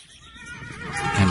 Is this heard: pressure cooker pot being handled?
no